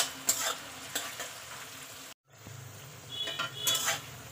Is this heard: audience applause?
no